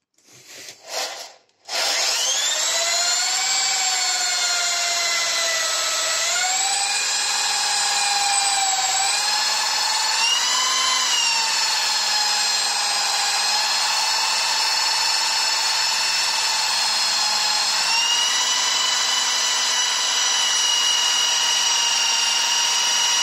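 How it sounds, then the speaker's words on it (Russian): After a brief clatter, a drill bit grinds into a hardened tool-steel file with a steady, loud, high whine whose pitch shifts slightly as it cuts, continuing without pause. "Попробуем, что нам скажет наше сверло в случае напильника."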